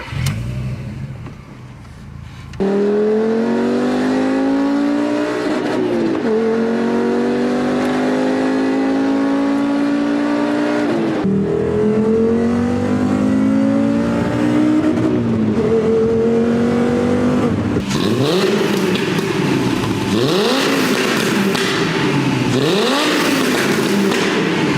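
A five-cylinder car engine revs repeatedly, each pull climbing in pitch before dropping back, loud and close, building to harder, higher revs near the end.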